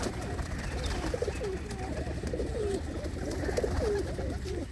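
Pigeons in Mahmoodpur village coo in a series of low, rolling calls close by, over a steady background hum.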